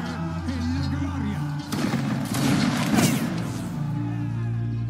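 Musket volley gunfire in a video game battle between Italian and French line infantry, a dense crackling burst of many shots near the middle with voices talking around it.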